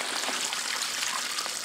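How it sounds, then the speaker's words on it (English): Compost tea poured from a container onto a pile of charcoal being made into biochar, a steady close splashing and trickling wash of liquid that runs evenly throughout without pauses. "You just pour in some compost tea."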